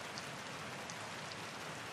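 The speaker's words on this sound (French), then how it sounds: "J'entends les rafales de vent et de pluie qui martèlent les volets." Rain from tropical storm Helene in the Blue Ridge Mountains patters steadily, faint and distant, with no distinct wind gusts standing out.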